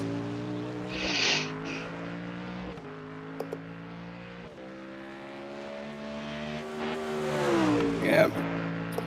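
A race car in the iRacing sim at the Nurburgring 24 Hour losing grip, its engine droning and shifting pitch with brief revs and a faint tire scrub, under quiet talk.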